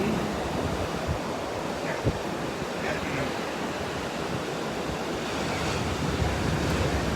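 Sea waves break and wash against rocks in a continuous loud roar, mixed with gusty wind noise on the microphone and no voices.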